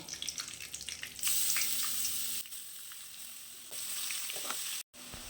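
Grated raw mango sizzles in hot oil with chana dal and curry leaves, a soft steady crackle with bursts of stirring and a brief faucet-like hiss, quiet and close.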